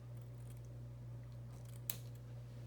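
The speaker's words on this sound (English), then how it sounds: "I'm going to trim this, if I can figure out how to work scissors" A pair of scissors makes a single short, crisp snip over a steady low electrical hum, trimming a piece of material in a quiet room.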